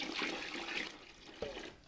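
Cool water running from a tap for rejuvenating a bread starter, a steady rushing splash that swells and eases, then a brief knock near the end.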